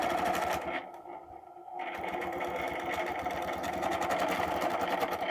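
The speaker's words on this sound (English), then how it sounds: "Let's stitch an arc." Sewing machine stitching an arc across fabric, a steady close mechanical whir with a rapid needle chatter that cuts out briefly near the start, then resumes and runs continuously.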